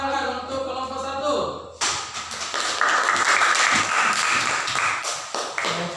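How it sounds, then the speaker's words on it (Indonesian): Classroom applause for a student group after their presentation: a burst of many hands clapping begins abruptly and continues steadily, loud and dense, following a teacher's speech. "beri tepuk tangan untuk kelompok satu"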